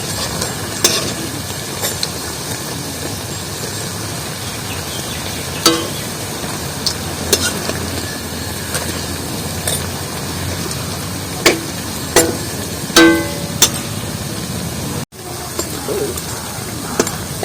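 Drumstick leaf fritters deep-frying in hot oil, a steady broadband sizzle running throughout with occasional sharper crackles and pops, fairly close, with no one talking.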